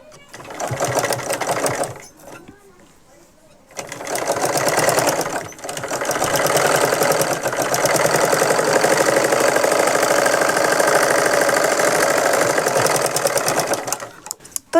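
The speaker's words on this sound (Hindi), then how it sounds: "तो चलिए यहाँ पे हम इसकी सिलाई लगाते हैं सीधी करके।" A sewing machine stitches a straight blouse seam with a rapid, steady mechanical chatter, loud and close, pausing briefly near the start before running continuously to the end.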